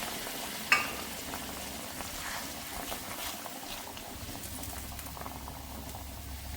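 Ridge gourd masala simmering covered on a low flame, a steady soft bubbling and pattering throughout, close and gentle, with one small knock near the start.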